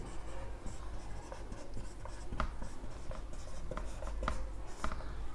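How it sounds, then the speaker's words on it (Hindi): Pen scratching across paper in steady writing strokes with small tapping marks, close and continuous with no talk, during a homeopathy lesson. "मैं लिख देता हूं।"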